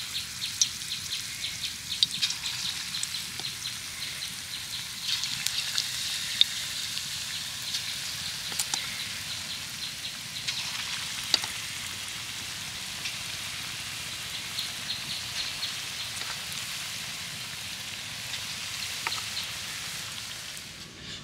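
Semolina (suji) fritters for motichoor laddu fry in hot oil, giving a steady, close crackling sizzle with scattered pops and no talk throughout.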